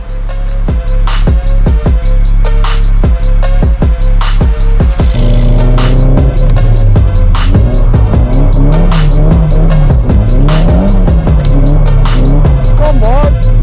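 A Nissan 200SX with a welded differential slides around on a wet road, its engine roaring loudly and close as it revs up and down through the drift while a rhythmic pulsing beat runs throughout.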